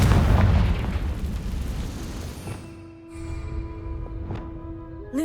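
A Confringo fire spell blasts in Hogwarts Legacy, a loud roaring burst that rumbles and fades over a few seconds, followed by quiet magical chimes and a short whooshing tone.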